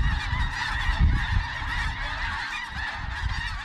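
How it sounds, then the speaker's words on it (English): A large flock of geese honks continuously, a dense overlapping chorus of calls that fills the air without pause. "Seeing a sky full of a cloud of geese was something I hadn't seen before"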